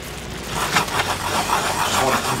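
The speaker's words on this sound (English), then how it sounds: "I wanna continue to stir this." Butter gets stirred into a fish piccata sauce in a pan, a close, continuous rubbing scrape of a utensil moving through thick liquid with a soft bubbling undertone.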